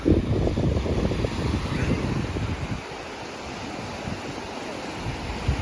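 Sea waves wash onto a beach, a near, rumbling surge that swells and then recedes into softer fizzing backwash, with wind buffeting the microphone.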